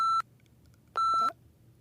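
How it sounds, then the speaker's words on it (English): Two short electronic beeps from a phone, each a steady tone, separated by a brief pause, fairly quiet. "The phone started to beep again."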